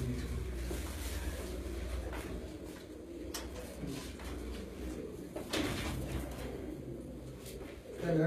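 Pigeons coo softly through a steady murmur of background noise and voices, with a few brief knocks and shuffles along the way.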